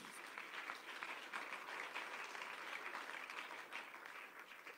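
An audience at a religious talk breaks into steady, moderately distant applause, a dense wash of clapping that holds evenly throughout with no voices over it.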